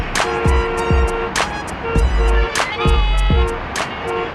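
Short car horn toots sound repeatedly on a busy street where taxis and colectivo minibuses call out to passengers, several quick honks over traffic noise with a voice briefly heard.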